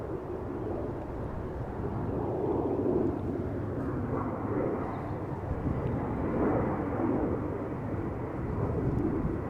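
A KLM Embraer jet rumbles at an airport, a steady broad roar at moderate distance that swells slightly and persists without talk.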